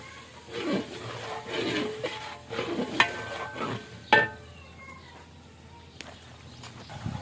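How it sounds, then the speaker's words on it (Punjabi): Chickpeas roast and are stirred in a large deg cooking pot, with repeated scraping strokes of a ladle against the metal and sharp clanks, heard up close with a low background hum. "ਇਹ ਚਨੇ ਸਾਡੇ ਇਹਨਾਂ ਨੂੰ ਅੱਛੀ ਤਰ੍ਹਾਂ ਭੁੰਨ ਕੇ"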